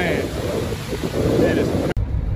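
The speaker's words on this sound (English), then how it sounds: "We're also getting some wind" Strong outdoor wind buffets the microphone in a continuous rough rush during flooding in the Great Smoky Mountains near Gatlinburg, then cuts off abruptly near the end.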